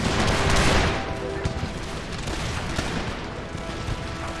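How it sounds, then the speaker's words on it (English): Artillery and musket fire thunder across an Empire: Total War battle, a dense, continuous rumble of overlapping volleys and booms with a voice speaking over the din. "Artillery pound the center."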